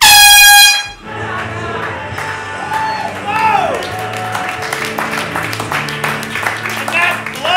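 A loud, sustained air horn blast opens the end of a town hall debate meeting, cutting off after about a second, followed by crowd noise, applause and scattered shouts with people talking throughout.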